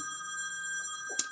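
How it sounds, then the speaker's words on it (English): A mobile phone rings with a steady electronic tone held throughout, fairly loud and alone, with a brief sharp click near the end. "That's my phone ringing if you can hear it."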